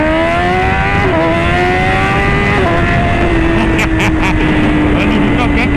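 A BMW S1000 motorcycle engine revs hard and climbs in pitch, easing off briefly between pulls and then rising again, loud and close, with short bursts of voices over the engine noise.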